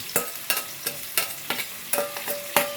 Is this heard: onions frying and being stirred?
yes